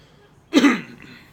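A single short, throaty cough sounds close by, with quiet background otherwise.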